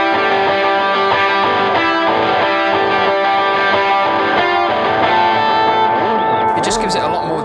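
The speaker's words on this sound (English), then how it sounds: "which uses the delay again with the blues drive and also my overdrive distortion." Electric guitar run through a delay with a Blues Driver and an overdrive distortion pedal in parallel, playing a dense, sustained distorted part with steady repeating notes and a brief noisy scrape near the end, loud and alone.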